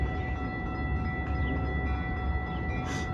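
A Milwaukee North line train bound for Chicago rolls by as a steady, close rumble with a faint tonal hum and no breaks.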